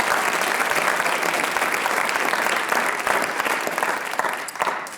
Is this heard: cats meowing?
no